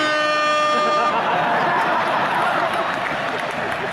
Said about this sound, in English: That air horn pushed me over the top.